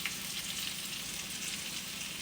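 Pork tenderloin sears in a hot pan, giving a soft, steady sizzle that holds evenly throughout, faint and heard from a little distance.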